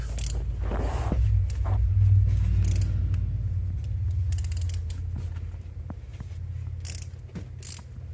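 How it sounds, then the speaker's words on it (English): Ratchet wrench creaking and clicking as it loosens a spark plug on a 2005 Chevy Silverado LS-engine shop truck, with close mechanical creaks and a few sharp clicks over a low steady rumble. "plug number 2 loosening up"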